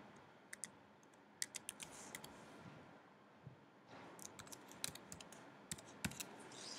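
Keystrokes from typing on a computer keyboard, entering text into a web browser: quiet, irregular clusters of sharp clicks come in two bursts over a low background hum, with no talking.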